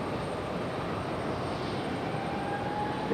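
A Delta Airbus neo airliner lands at Raleigh-Durham International Airport, heard as a steady, broad jet roar at a distance, even in level from start to finish, with no voices.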